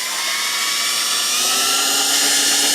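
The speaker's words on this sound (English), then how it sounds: "We're going to use the drill." Power drill spinning a rusty chrome chair slider against sandpaper like a lathe during restoration of a rosewood Eames chair; a steady, loud, continuous high-pitched whirring grind held alone throughout.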